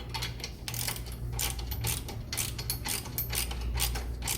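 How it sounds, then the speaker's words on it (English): Ratcheting clicks from a 17mm box wrench and 14mm socket tightening bolts on adventure side guards for a 2019-or-later Honda CB500X, a steady rapid clatter, loud and close, with no talk. "Then tighten up with your 17mm box wrench and your 14mm socket."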